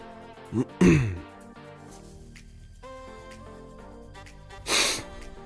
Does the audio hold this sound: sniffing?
yes